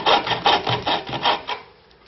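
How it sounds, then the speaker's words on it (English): Hand saw cutting a comb joint in wood, with about seven rhythmic rasping strokes in quick succession that fade off near the end, close and fairly loud, with no talking. "it doesn't matter how small you look when you're using these saws"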